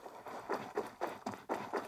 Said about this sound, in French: j'ai juste les bruits de pas.